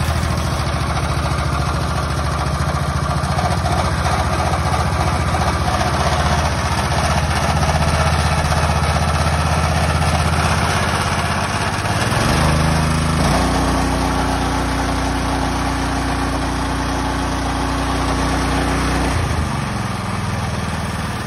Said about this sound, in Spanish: aquí ya escuchamos que revoluciona perfectamente el motor